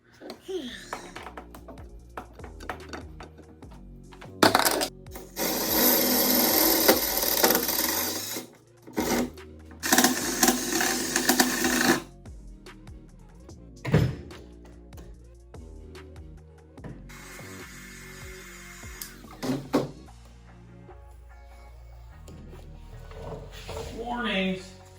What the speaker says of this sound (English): Got a little sanding to do, smooth up some of these spots.